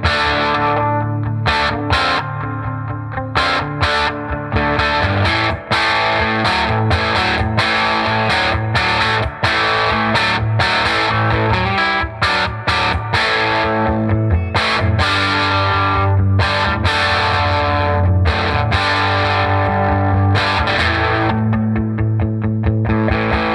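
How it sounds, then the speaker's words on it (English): Distorted electric guitar played through a TV Jones Filtertron bridge pickup, loud and continuous with chords and riffs ringing out alone. "In terms of sound from this TV Jones Filtertron, it's a big, warm sound."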